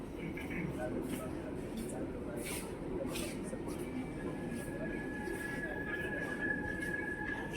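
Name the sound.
metro train arriving at underground station platform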